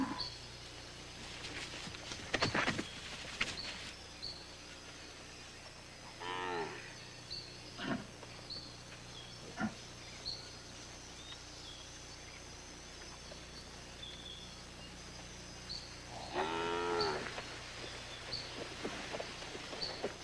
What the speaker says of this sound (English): making it easier for the cattle to graze